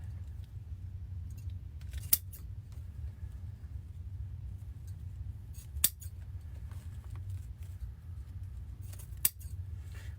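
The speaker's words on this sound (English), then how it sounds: "With my super, super sharp scissors." Very sharp craft scissors snipping material for a bunny head wreath, three distinct crisp cuts spaced several seconds apart over a low steady background rumble.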